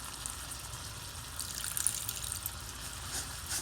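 A thin trickle of water pours steadily into a pan of simmering sauce, a light splashing hiss that continues for a few seconds without a break.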